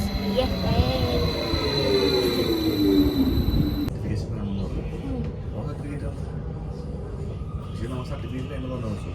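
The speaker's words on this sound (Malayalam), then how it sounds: "നമ്മുടെ ട്രെയിൻ എത്തിയിട്ടുണ്ട്" A train in Switzerland: its engine drone drops steadily in pitch as it slows to a halt at a station, then a low rumble continues while people talk nearby.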